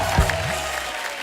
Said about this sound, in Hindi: जोरदार तालियां हो जाए मैम के लिए